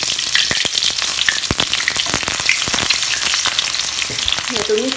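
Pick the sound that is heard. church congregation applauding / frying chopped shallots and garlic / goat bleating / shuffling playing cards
frying chopped shallots and garlic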